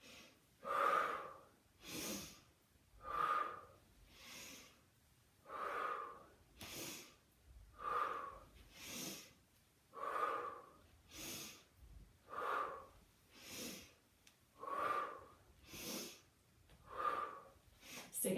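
Deep, slow breathing during a gentle pilates workout with a foam roller, a regular cycle of audible inhales and exhales repeating about every second and a half, close and fairly quiet.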